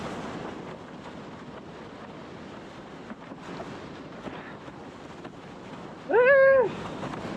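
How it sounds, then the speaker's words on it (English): Strong wind rushes steadily across an open desert lake during a windsurfing session, a constant broadband roar with microphone buffeting, ending in a short whistling tone. "Oh my god, it's windy."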